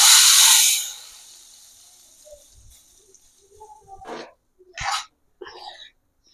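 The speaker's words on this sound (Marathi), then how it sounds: "तडका तयार झालेला आहे, तुम्ही आता मारून घेते." Hot tadka poured over matar paneer masala gives a loud burst of hissing sizzle that dies away within about a second, followed by quieter scattered clatter and short hisses.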